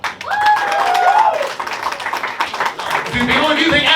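A comedy roast battle audience claps to vote for a comedian, with a burst of applause mixed with cheers and a host's voice, loud and close, fading and then rising again near the end.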